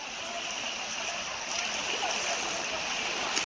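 A stream flows near Bhivpuri waterfall with a steady, close, full rush of water that holds evenly throughout. The sound cuts off abruptly at the very end.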